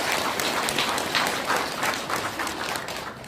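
Audience applause at a South Korean Democratic Party political event, a steady wash of many hands clapping in a hall, sustained and fairly loud throughout without a break.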